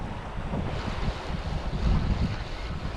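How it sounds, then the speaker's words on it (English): Strong wind buffets the microphone on a rocky stretch of Anglesey coast in September, with rough sea and surf rumbling underneath as a steady, loud, broadband roar with low gusty surges, no voices. "It's a bit windier than I thought it was as well"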